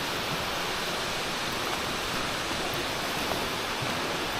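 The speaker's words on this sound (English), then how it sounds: "Have we just discovered that the waterfall's fake?" An artificial waterfall fed by pipes pours in a steady, loud, unbroken roar of falling water, with no voices over it.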